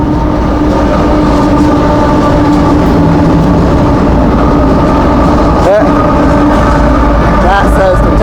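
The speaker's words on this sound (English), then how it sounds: "think that's a grain train" A grain train rolls past on the railroad at Thurmond, a loud, steady rumble of wagons with rhythmic clacking and metallic squeals near the end, close to the listener throughout.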